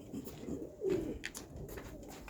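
Pigeons kept in cages in a loft coo softly and rustle, with a few low murmuring coos and light shuffling sounds close by.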